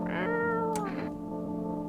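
A cat meowing in a video game, a long drawn-out tonal meow that bends in pitch, followed by a softer trailing cry over a steady low game hum.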